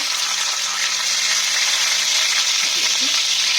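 Bay leaf and whole spices frying in hot ghee for a prawn rezala, a loud steady sizzle that crackles continuously close by, with a faint voice barely present.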